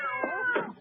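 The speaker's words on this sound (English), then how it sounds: "If you don't mind the cats." A cat meows in a short, drawn-out, plaintive call, close and clear, within a radio mystery drama scene.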